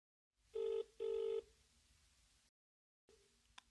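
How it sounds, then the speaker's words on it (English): A telephone being dialled to place a call: two long, loud tone bursts sound in quick succession, followed by a faint hiss and then a fainter tone with a short click, with no talking. "He is phoning her for directions."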